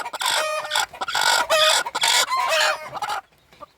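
Free-range country chickens cluck and squawk loudly and close by in a noisy flurry, with a rooster's crow mixed in, before falling quiet at the end.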